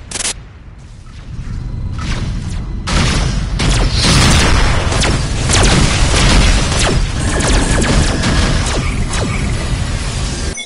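Spaceship combat in the space game Rebel Galaxy brings a dense, loud run of booming explosions, crashes and rattling mechanical weapon fire that goes on without a break.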